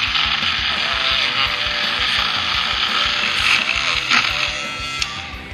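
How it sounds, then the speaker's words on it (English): Small cordless Dremel rotary tool grinding an engine valve during a 2hp Briggs and Stratton engine rebuild, a steady high whirring grind with rattly mechanical texture running throughout, close and fairly loud. "I just bought a Dremel at Bunnings for 20 bucks. And it's just this little like cordless one."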